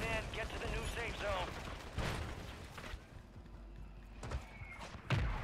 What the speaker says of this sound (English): Ooh, mortars.